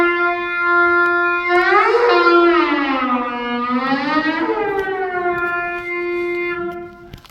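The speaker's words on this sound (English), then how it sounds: "this is what a trumpet sounds like when you throw helium into the mix" A trumpet played with helium inside it gives a loud, sustained, bright tone that bends and swoops in pitch across two long phrases, rising and falling like a siren, with no talking.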